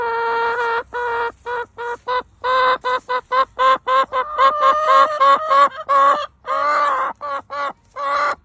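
Two hens clucking and grumbling in a backyard coop, a close run of short, choppy squawks and complaining calls that go on steadily without pause, with no talking.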